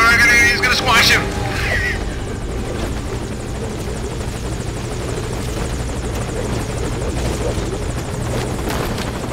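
Military helicopter rotor thumping steadily at a landing zone in Metal Gear Solid Ground Zeroes, loud and continuous, with a brief burst of game music or voices at the start.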